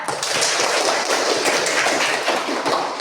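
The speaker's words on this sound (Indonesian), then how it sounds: "Oke, tepuk tangan buat semuanya." A classroom group of Indonesian religious-education students claps together, a thick, continuous wash of hand claps with sharp individual taps poking through, sustained evenly from start to finish with no speech.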